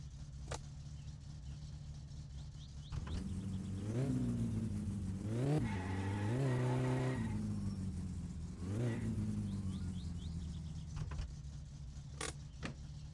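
A Satsuma car engine in My Summer Car idles steadily and revs up several times with rising whines, close and moderately loud, during a warm-up.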